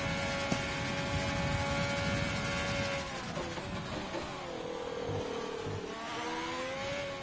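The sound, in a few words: Haas Ferrari F1 car engine from a racing video game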